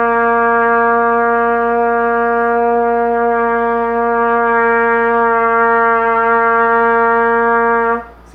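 Wind instrument holding one long, steady low C with tightened embouchure corners, a bright harmonic-rich sustained tone for about eight seconds, loud and close, ending abruptly.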